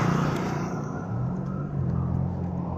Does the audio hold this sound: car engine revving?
yes